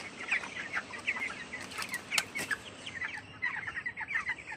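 A flock of 25-day-old farm chickens cluck and chirp in a shed, rapid repeated calls rising and falling with a few sharper squawks and faint wing flaps, moderately close, no voices.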